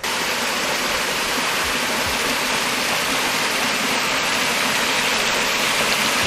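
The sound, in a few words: river water flowing over cascades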